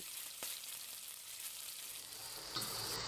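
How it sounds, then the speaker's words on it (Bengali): Steady sizzling of ground onion paste frying in hot oil, a continuous crackle with a brief stir or scrape near the end. "এখন পেঁয়াজটা দিয়ে একটু ভেজে নিচ্ছি"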